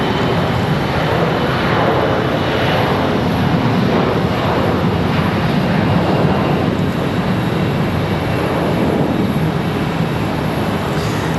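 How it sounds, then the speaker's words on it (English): Boeing 737-800 airliner arriving at Charlotte Douglas airport from Nashville, a loud, steady jet engine roar that holds constant with no voices. "Here comes our 737 from Nashville."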